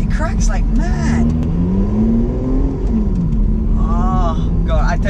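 A Lotus Exige Sport 380 with its exhaust valves opened, its engine rising in a loud, close, steady drive with a continuous rumbling hum; someone talks over it throughout.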